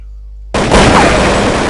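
A single loud Desert Eagle pistol shot in a first-person PvP shooter game, a sudden sharp burst that lands after a short quiet lead-in and rings out with a broad, sustained noisy tail.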